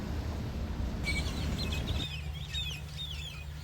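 Chickens cluck and a few birds chirp faintly over a steady low rumble of background noise.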